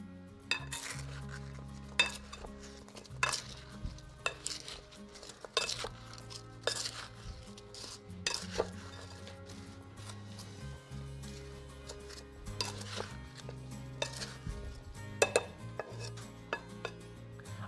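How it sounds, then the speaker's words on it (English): Flour and a pinch of salt are stirred together in a bowl, giving soft scraping and repeated clinks of a utensil against the bowl, close up and fairly quiet, with no talking. "Let's give this a really good mix."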